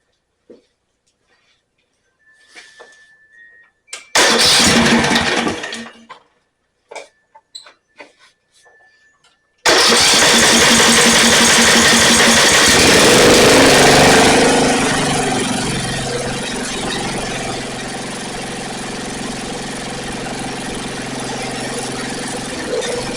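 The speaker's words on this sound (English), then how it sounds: "I'm going to see if it'll start with the switch out." A Snapper 28-inch riding mower under repair: several short, loud cranking bursts and clicks separated by quiet, then the engine catches and runs steadily and loudly at close range, easing slightly toward the end.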